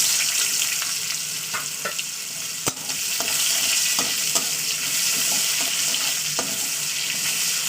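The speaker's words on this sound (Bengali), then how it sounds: "এবার আমি এতে পেঁয়াজটাকে দিয়ে দেবো যে একটা পেঁয়াজ কুচি গেছে দিয়ে দিচ্ছি পেঁয়াজ" Chopped onion frying in hot oil in a pan, a loud, steady hiss with small crackles and a few clicks from a utensil, close and continuous.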